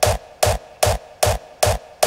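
An electronic kick drum sample, cut short and treated with reverb, thumps six times in a steady, evenly spaced rhythm, each hit punchy and alone with a brief reverberant tail.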